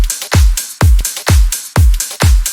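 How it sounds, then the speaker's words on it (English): A slap house drum loop: punchy kicks alternate with sharp claps in an even, driving pattern, six loud hits in quick succession with nothing else playing. "The drums sound like this."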